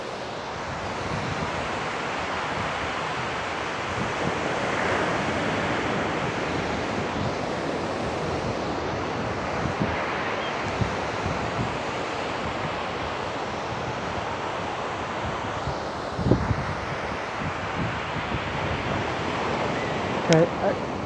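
Ocean surf on a San Diego beach, a continuous broad wash of breaking waves mixed with gusty wind buffeting the microphone, with a couple of louder thumps near the end.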